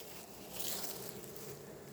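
Faint, steady hum of honeybees in a small nucleus hive, a soft continuous drone swelling slightly midway, with no talking.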